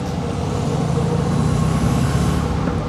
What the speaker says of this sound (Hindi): बहुत मज़े की आवाज़ आ रही है इस गाड़ी के इंजन की